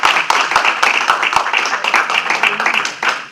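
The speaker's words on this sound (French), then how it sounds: "Je vous demande de l'applaudir très fort." An audience at a PDCI party conference in the United States applauds an arriving guest, a Guinean diaspora member of the National Assembly, with steady close clapping and a few louder individual claps standing out, under a murmur of voices.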